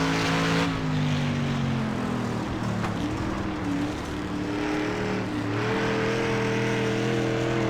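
Race car engine on a dirt oval in the iRacing sim, a steady droning note that rises and falls gently with light, careful throttle through the turns, loud and continuous with no talk.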